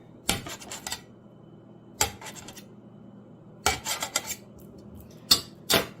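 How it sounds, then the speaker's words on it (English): A fork chops sausage on a plate, producing short bursts of scraping and clinking in four separate clusters with quiet gaps between, close up. "I started chopping my sausage before I got the butter"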